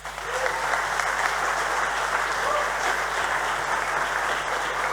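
Steady, sustained applause fills the hall at an architectural technology awards ceremony, with a dense, even wash of clapping from a large audience for the winners and finalists.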